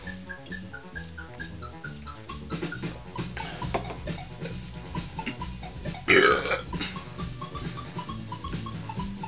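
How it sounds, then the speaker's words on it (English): A single loud burp from someone who has just drunk a can of soda pop, bursting out partway through over a steady bed of background music. "Yet the result is a burp, in which the expelled gas is carbon dioxide from the drink itself."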